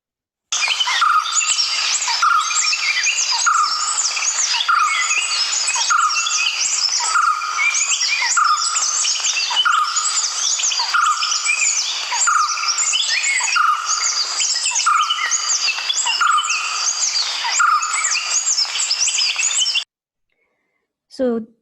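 Continuous, busy bird calling from a barbet species endemic to peninsular India, with repeated rhythmic notes and other birds mixed in, steady and fairly loud for about twenty seconds before cutting off.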